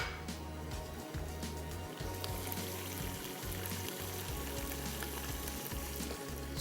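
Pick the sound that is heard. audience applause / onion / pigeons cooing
onion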